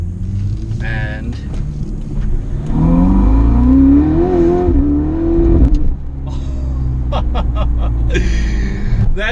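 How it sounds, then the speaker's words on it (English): A Ferrari 488 Spider's turbocharged engine revs up and down close by, swelling to a loud, rising peak in the middle before dropping back to a rough idle with brief sharp bursts. "did you hear the boost? Did you hear that engine?"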